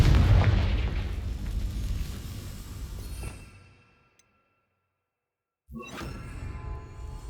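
A Confringo spell explodes in Hogwarts Legacy with a loud blast that rumbles away over about three seconds, then near-silence and a single tick, before a second burst of sound cuts in.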